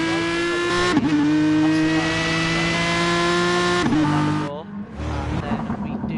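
GT3 race cars, mostly naturally aspirated V8s, roar at high revs around Spa in a sim race, a loud sustained engine note with gear-shift dips, then easing off with a quieter rumble.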